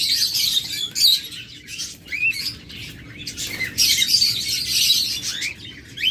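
Opaline lutino lovebirds chirp and squawk in shrill, overlapping bursts, loud and close, with a low background rumble and no talking.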